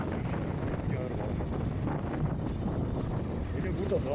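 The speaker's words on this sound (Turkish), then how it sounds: "Rüzgar var." Wind buffets a microphone outdoors in a steady low rumble in Denizli province, Turkey, on leaving an ancient city site, with gusty roaring throughout and no clear voices.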